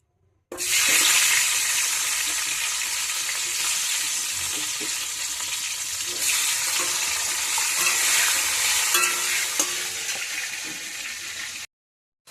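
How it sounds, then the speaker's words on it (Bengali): Potato pieces fry in hot oil in a Bengali home kitchen, a loud steady sizzle that runs unbroken for about eleven seconds before cutting off. "এবার আলু কটা ভেজে নেবো"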